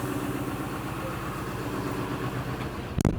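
A steady low MTZ tractor engine idles throughout with a rhythmic chug, closely miked, ending in a sharp click or knock near the end.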